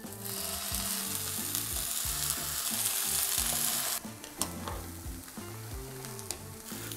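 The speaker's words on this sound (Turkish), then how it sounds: "Onları şimdi sıcak tavaya diziyoruz." Zucchini slices laid in a hot pan sizzle steadily and loudly, with occasional clinks and scrapes of a utensil against the pan.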